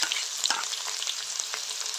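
Shallots fry with fenugreek seeds in hot oil, giving a bright, crackling sizzle up close with quick stirring scrapes over a brief moment.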